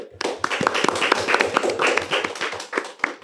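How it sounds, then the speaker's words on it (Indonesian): An audience in a room at a school podcast event applauds with many dense, overlapping hand claps, loud and steady for about three seconds. "boleh tepuk tangan untuk kita semuanya"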